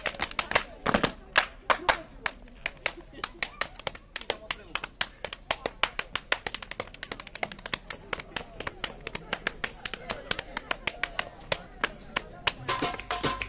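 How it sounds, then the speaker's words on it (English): Body percussion of clapping and finger snapping keeps time to music, crisp rapid rhythmic slaps and snaps repeating steadily throughout, fairly close, with faint music underneath. "I can do the clapping and the snapping, but when it gets really fast, it's really hard."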